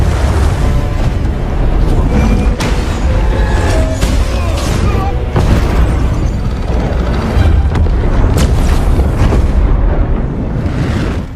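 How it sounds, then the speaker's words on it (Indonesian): A sustained, loud rumbling mine explosion in a film, with heavy low-end roar and scattered bursts and crackles throughout, dense and continuous from start to finish. "ia pun terpaksa meledakkan bom tambang"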